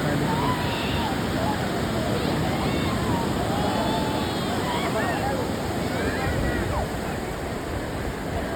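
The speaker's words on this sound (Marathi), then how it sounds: "हे बघा लाटा कशी देतात" Sea waves surging onto the beach at Kashid, a crowded public shore, as a steady loud roar of surf and wind with faint distant voices mixed in.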